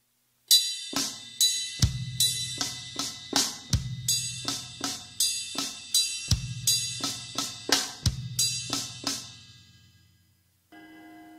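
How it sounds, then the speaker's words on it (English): Linear drum phrase combining sevens and fives spread over ride cymbal, snare and kick in a 3/4 feel, a steady stream of close, bright cymbal strikes with punchy kick and snare accents, played solo without voices. "Now when we put the 7 and the 5 together between the ride, snare, and kick, it sounds like this."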